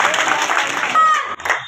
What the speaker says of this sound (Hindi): जोरदार तालियों से स्वागत चाहता हूं साथियों।